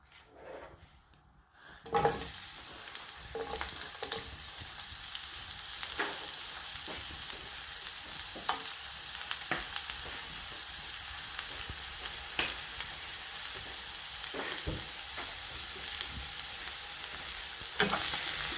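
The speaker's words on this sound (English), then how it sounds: "Now we turn on our pan on heat and then put just a tablespoon of oil. Then we put our onions." Onions hit a pan with a tablespoon of hot oil after a short quiet start, then fry with a loud, steady sizzle, broken by occasional clicks and scrapes of stirring.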